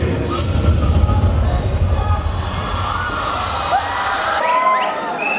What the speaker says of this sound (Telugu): ఎవ్రీవన్ క్లాప్స్ అండి గట్టిగా